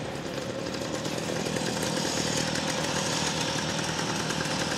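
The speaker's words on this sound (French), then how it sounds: "Le bruit du moteur est sympa. Exactement. Quand on accélère, ça berce." A motor engine runs continuously with a steady, rough roar, loud and close, no voices.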